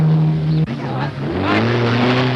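Racing cars at the 1968 Hardie-Ferodo 500, Holdens among them, engines droning and shifting pitch as they pass, loud and close, with a commentator talking over them.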